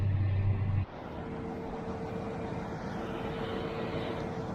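Steady engine drone from a tractor working a farm field while cutting grass, a loud low rumble at first, then a continuous mid-distance mechanical hum with a faint tonal whine throughout.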